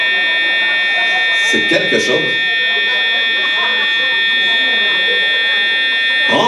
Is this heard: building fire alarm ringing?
yes